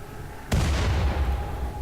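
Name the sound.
artillery gunfire in the video game RimWorld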